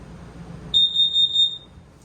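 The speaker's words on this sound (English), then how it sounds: "if it smells carbon monoxide, you're going to hear that little noise" An LP and carbon monoxide detector in a 2024 Forest River Salem Hemisphere 375FAM fifth wheel RV sounds a close, loud, high-pitched electronic beep, pulsing rapidly for under a second before cutting off.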